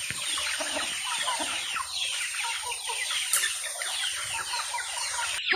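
Chickens cluck and chatter steadily at feeding time near a coop, several birds close by in a busy overlapping clamor with occasional sharper calls.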